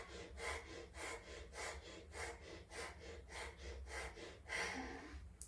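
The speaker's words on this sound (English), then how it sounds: "So we are going to start breathing on our chest." Slow, steady breathing into the chest during a yoga pranayama relaxation practice, about a dozen close, rasping breath strokes in an even rhythm, heard alone without talking.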